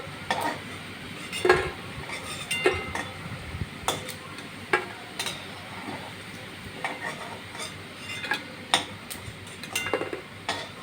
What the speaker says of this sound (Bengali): আমার মাছের ডিমের বড়াগুলো এই যে ভাজা হয়ে গেছে। এই যে ভাজা হয়ে গেছে, এবার তুলে নিচ্ছি।